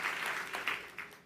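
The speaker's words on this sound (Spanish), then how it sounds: "denle un fuerte aplauso al Señor." Church congregation applauding, a soft dense patter of many hands clapping that fades over a short span, heard somewhat distant and without talk.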